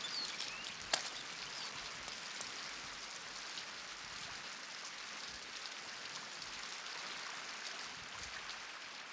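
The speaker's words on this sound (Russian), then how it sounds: "Дождь скоро перестанет." Steady rain falls in a wild forest setting, a continuous soft hiss of drops that holds an even level for the whole stretch, with one brief sharp click near the start and no voices.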